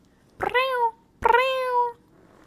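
Two drawn-out meows from a house cat, each rising then falling in pitch, close and clear, with a short pause between them over a quiet room.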